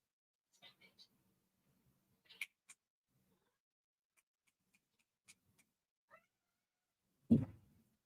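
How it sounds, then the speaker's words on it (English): Cat screaming and meowing indoors: a few faint, scattered meows early on, then one loud, harsh screech near the end, with quiet gaps between. "Oh, there's a screaming cat and Vaughn's in a meeting."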